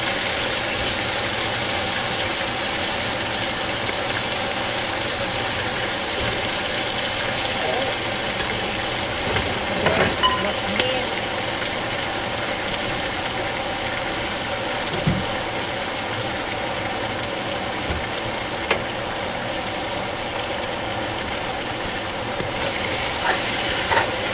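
Chicken for brown stew cooking in a pot on a kitchen stove, a steady loud hissing and bubbling rumble that continues throughout with occasional faint clicks and pops.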